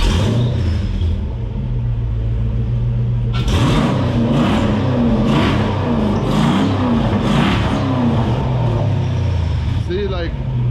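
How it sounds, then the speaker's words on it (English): A budget-built Jeep crawler engine idles with a low rumble, then revs hard in several rising bursts before dying, close and loud, with someone talking over it. "This time I get about 4 or 5 seconds worth of throttle, and then it's dead again"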